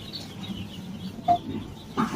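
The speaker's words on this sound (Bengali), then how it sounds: "দর্শক এখন আপনারা দেখতে পাচ্ছেন আমার অস্ট্রেলিয়া মুরগির বাচ্চাগুলো" Australorp chicks make soft, faint cheeping and clucking calls from close by, with a couple of brief louder peeps against a quiet background.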